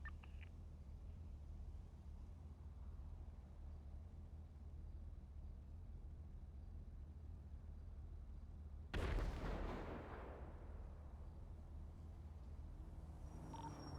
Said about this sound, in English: There's an explosion to the south.